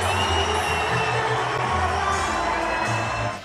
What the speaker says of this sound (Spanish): se llevó el abucheo más grande de la noche